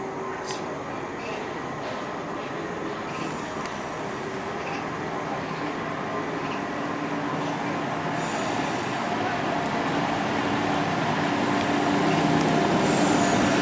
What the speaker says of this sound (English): We are now pulling out of Dorridge and heading to our first station